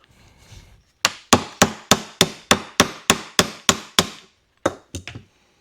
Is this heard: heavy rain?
no